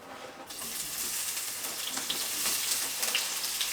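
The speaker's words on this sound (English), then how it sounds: "I'm going to fry those onions off now" Onions frying in a pan give a steady, close hiss of sizzling with small crackles and pops throughout, no voices.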